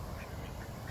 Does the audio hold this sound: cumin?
no